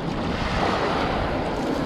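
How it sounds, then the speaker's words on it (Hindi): Ocean waves surge at the rocky Galle shore in Sri Lanka, a steady loud wash of surf and wind noise close to the microphone, with no voices. "अरे भाई उधर तो बहुत ऊंची ऊंची लहरें आ रही हैं।"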